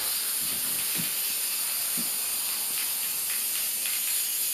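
A spray paint can coats a whole page in black for a school project, giving a steady, even hiss that runs continuously, close and fairly loud, with faint bursts as the nozzle sweeps.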